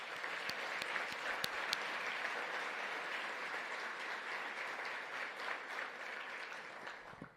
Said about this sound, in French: une belle main d'applaudissements, tout le monde